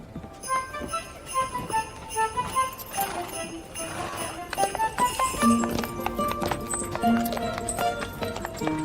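Horses clip-clop through the scene with steady, overlapping hoofbeats, mixed with a whinny, background music and people talking over them.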